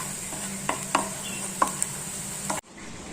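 Onions and turmeric sauté in a pan as a utensil stirs them, with a soft sizzle under a few light scrapes and taps, before the sound cuts off abruptly near the end. No speech.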